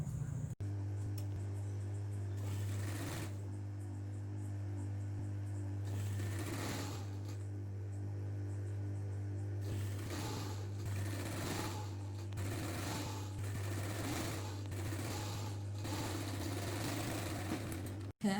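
A sewing machine stitches a blouse, running at a steady fast hum for the whole stretch, close by, with brief pauses and shifts in the stitching rhythm and no talk.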